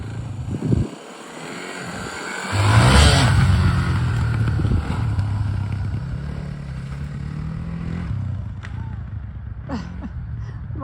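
A Yamaha TTR250 motorcycle ridden, its engine rising into a loud steady drone after a brief thump and staying close throughout, with wind buffeting and a faint voice underneath.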